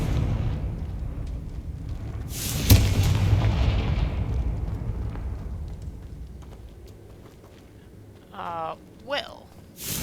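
The Confringo fire spell explodes in Hogwarts Legacy, a loud booming blast followed by a long rumbling, crackling decay that fades over several seconds, with brief voice sounds near the end.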